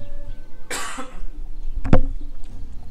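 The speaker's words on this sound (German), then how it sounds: "Sorry, ich musste kurz husten." A single sharp cough close to the microphone, a brief burst followed by a quieter throat sound, set in a quiet room with faint background noise.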